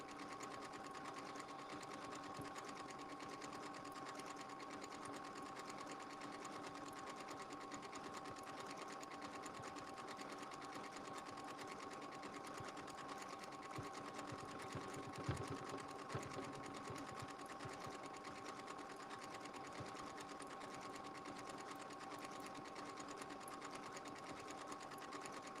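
Sewing machine stitching steadily around the outer edge of fabric backed with fusible fleece, a continuous even motor hum and needle rattle held at constant loudness for the whole stretch, with no talking.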